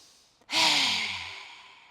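One long breath is pushed out through the mouth with the tongue out, a sudden loud breathy rush that slowly fades over about a second.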